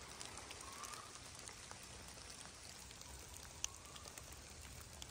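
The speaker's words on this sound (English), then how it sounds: "Might be rainy, but it's still beautiful out." Steady rain falls outdoors at an animal sanctuary, a dense continuous patter of drops on surfaces with one sharper drip standing out, no voices.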